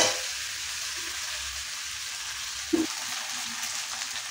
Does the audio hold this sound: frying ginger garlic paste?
yes